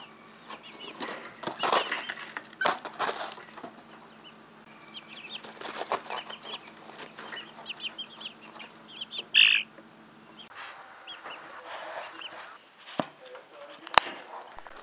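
Young chickens cluck and chirp in short bursts, with occasional wing flaps and a steady low hum underneath, fairly close.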